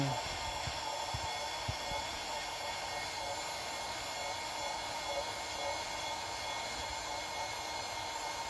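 Steady loud whooshing drone of a vacuum pollen collector motor running continuously, broadband and even, with faint background sounds early on.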